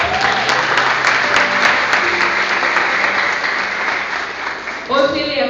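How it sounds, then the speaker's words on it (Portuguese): A church congregation claps steadily in a continuous wash of applause, fading slightly toward the end as a voice begins to speak. "Você vai aplaudir?"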